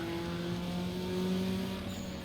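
Car drifting in the racing game Need for Speed Underground 2, with a steady engine drone and a sustained tire squeal running through the whole short stretch, loud and close with no voices.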